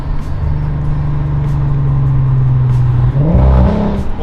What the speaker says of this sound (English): a little downshift fun. Get the RPMs low enough.